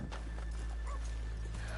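Steady clip-clopping of horse hooves with an occasional whinny, over a constant low hum, from the video game Red Dead Redemption 2.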